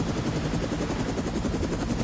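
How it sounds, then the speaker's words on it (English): A helicopter in the video game Reverse 1999 gives a loud, continuous rotor chop with a steady, rapid beat that fills the whole stretch, with no voices over it. "That's a Foundation helicopter."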